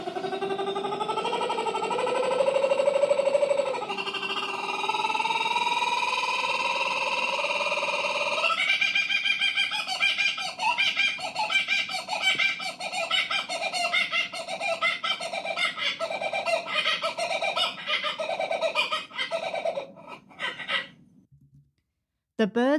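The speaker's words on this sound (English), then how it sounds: "If you've never heard a kookaburra laugh, here's a little recording." A recording of a kookaburra laughing: loud, close, repeated cackling calls that build from rising hoots into a rapid, rhythmic chorus of staccato laughter, then break off abruptly.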